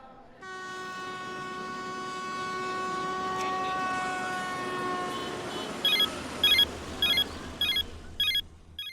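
Train pulls into a station sounding a long, steady, loud horn, then several short repeated toots above the rumble of railway cars.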